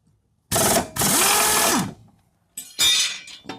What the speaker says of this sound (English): got our impact gun, and we'll go underneath and we'll take these blades off